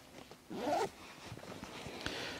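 The main-compartment zipper on a 5.11 Tactical Rush 12 backpack gives one quick, close rasping pull, followed by quiet handling rustles.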